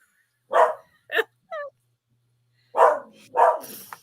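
A pet dog barks indoors at home: a few sharp, close barks in quick succession, a pause, then two louder barks, with no talk.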